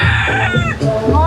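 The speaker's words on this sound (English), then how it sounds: "And there's a rooster in there." A rooster crows loudly and close by in the open air on CocoCay island in the Bahamas, one drawn-out call followed by a second rising crow.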